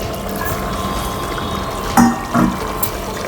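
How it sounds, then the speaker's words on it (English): Continuous hot water pouring and splashing into a pot of mutton nihari, close and fairly loud, with a couple of brief clinks partway through. "I'm going to add a little hot water to it."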